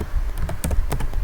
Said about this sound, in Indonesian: kita ketik